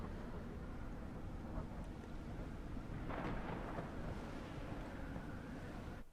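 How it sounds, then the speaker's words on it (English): Thunder in The Witcher 3: Wild Hunt keeps up a continuous low, distant rumble that surges briefly partway through, heard on its own and fairly faint. "the thunder's what tipped me off the first time I found this place"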